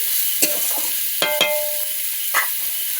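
Chicken mince frying in a pan, a steady close sizzle with a few scraping stirs of a utensil, no talking.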